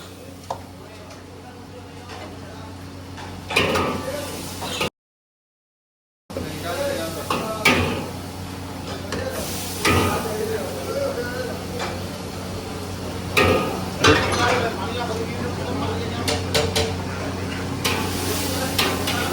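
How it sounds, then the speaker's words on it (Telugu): Food frying in a busy Hyderabad restaurant kitchen serving Ramadan paya: sizzling oil with clattering pots and utensils being stirred and scraped, under ongoing talk and kitchen bustle. "మళ్ళీ బేగా ఫ్రై చేస్తున్నాడు ఫ్రెష్గా మన కోసం"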